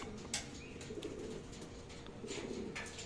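Racing pigeons arriving home from an 85 km training toss, with soft low cooing from several birds at close range, plus faint chirps, wing flutters and light rustling under a steady background hiss.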